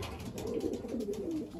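Belgian racing pigeons in a loft, several birds cooing together in a steady, murmuring low drone that runs through the whole moment at moderate closeness.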